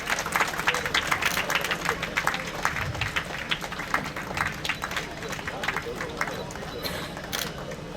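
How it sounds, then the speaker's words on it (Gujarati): A crowd at a temple lamp-lighting ceremony during a Viksit Bharat Sankalp Yatra event in Bhavnagar claps continuously, with many hands creating a busy, rattling applause and background voices murmuring underneath. "આપણે જોરદાર તાળીઓ સાથે દીપ પ્રાગટ્યને વધાવીએ"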